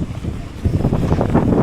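Strong wind blowing across a lakeside shore, with steady broadband rushing and gusty buffeting on the microphone, joined by lapping water, loud and continuous throughout.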